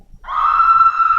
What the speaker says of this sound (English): A loud scream comes,